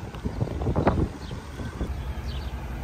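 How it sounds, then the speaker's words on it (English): Steady wind rushes and buffets against the microphone outdoors, a broad rumbling noise with a few faint clatters underneath. "It's a little bit windy."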